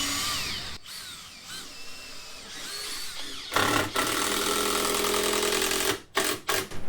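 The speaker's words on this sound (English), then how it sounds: "Screwing these down." A power drill drives screws down into framing in a fishing boat's pit, with loud close whirring bursts, a long sustained run and then several short stuttering pulses as each screw seats.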